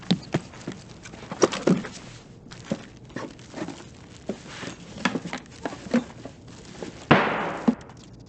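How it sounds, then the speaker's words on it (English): Sharp, irregular footsteps tap and clack close by in the video game Escape from Tarkov, on the Factory map, interspersed with faint thuds and a louder scuffing burst near the end. "Those footsteps did scare me."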